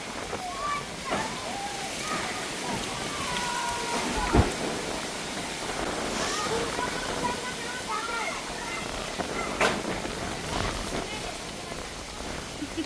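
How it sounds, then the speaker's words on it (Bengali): Heavy rain pounds down during a storm, with steady splashing and gusts close by, occasional louder thumps, and people talking over it. "ঝড় তুফান কিন্তু এরই মধ্যে শুরু হয়ে গেছে"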